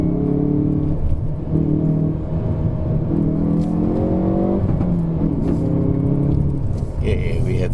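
Hyundai i30 N engine pulling hard uphill on a mountain hillclimb road in Malaysia, a steady loud rising drone with gear-held revs climbing and dipping, heard from inside the car.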